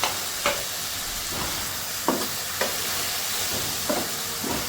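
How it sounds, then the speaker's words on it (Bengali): Fish frying in spice paste in a pan, a steady soft sizzle with occasional stirring scrapes and small bursts of spattering, close and fairly quiet with nobody speaking. "মাছটা একটু মশলার ভিতরে দিয়ে মাছটা একটু কষায় নেব"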